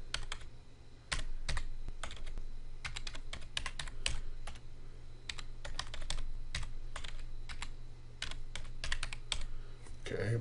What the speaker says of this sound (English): Gonna put in a password.